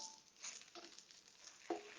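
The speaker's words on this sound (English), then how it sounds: "These are getting nice and sauteed." Ingredients for nasi goreng sautéing in a hot pan, with a soft steady sizzle and a few stirring scrapes, one sharper clink near the end; no talking.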